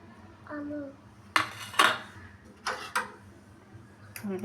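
Egg being mixed with chopped onion, green chili and coriander in a bowl while preparing mughlai filling: several sharp scraping and clinking strikes of utensil against bowl, close and moderately loud, with a quiet voice briefly heard.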